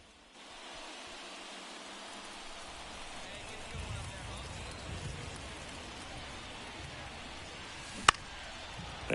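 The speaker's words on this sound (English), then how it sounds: "It feels like we might be headed towards a rain delay if the weather doesn't ease up, Chris." Steady rain hiss in a baseball video game builds from near silence into a broad continuous wash, with a sharp click near the end and faint commentary-like voices beneath.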